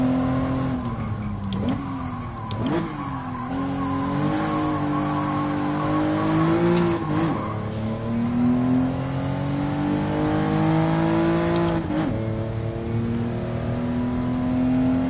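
Race car engine in Gran Turismo Sport screaming steadily at high revs, with several quick pitch drops at upshifts and brief tire squeal, loud and continuous throughout.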